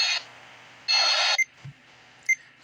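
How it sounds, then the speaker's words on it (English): An Icom R6 radio receiver emits two bright electronic beeps, a short one then a longer one, close and clean, followed by a few faint button clicks. "Get a little bit of a beep"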